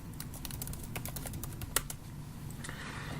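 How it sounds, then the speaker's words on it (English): Rapid, light keystrokes tap on a computer keyboard while a web address is typed, a close, steady patter of clicks with one sharper key press near the middle. "So I'll just type that in here."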